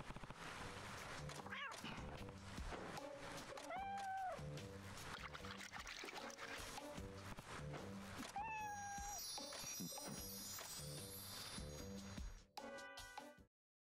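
A small white cat in the video game Like a Dragon: Ishin! lets out a couple of short rising meows over a busy, constant game soundtrack and ambience, the calls standing out only briefly before the music cuts off.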